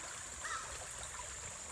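A clear creek running quickly after hurricane rains, a steady close hiss of flowing water with faint trickles, heard alone.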